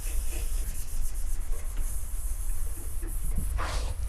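Hand sanding a paint run with a 2000 grit sheet, soft rhythmic rubbing strokes over a steady hiss, close and fairly quiet.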